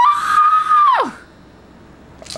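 A person lets out a single loud, high shriek lasting about a second that drops sharply in pitch at the end, followed by quiet and a short breathy sound.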